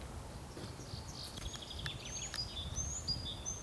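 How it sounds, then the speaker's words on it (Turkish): Faint bird chirps and short tweets over a low outdoor rumble in the Turkish countryside, scattered calls at a distance. "Kuş seslerini duyuyorsunuz."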